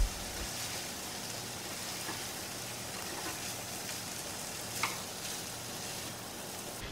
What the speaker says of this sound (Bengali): সবজিগুলো পুরোপুরি সেদ্ধ হওয়ার আগে ভাতটা দিয়ে দিতে হবে।